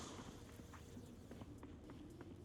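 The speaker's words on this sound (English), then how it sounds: "Now, she's hearing the Excel running." A character's running footsteps in the tactical shooter Valorant, a quick series of faint, soft thuds repeating at a steady pace under a low background hum.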